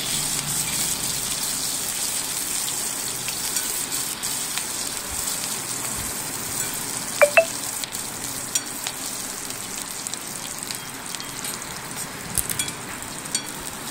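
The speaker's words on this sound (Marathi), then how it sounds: "त्यानंतर आपण बारीक कट केलेला कांदा टाकून घेऊया" Finely chopped onion frying in a pan gives a steady, close, fairly loud sizzle that holds evenly throughout. A few faint clicks and clinks come through over it, and no one speaks.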